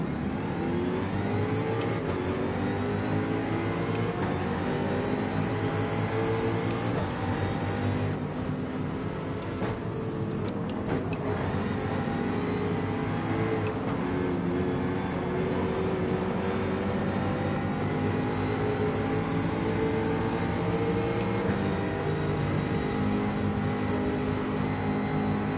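Race car engines in a racing video game at a race start, a BMW among them, a dense continuous roar of many engines revving and accelerating with shifting pitch throughout, loud and close, no voices.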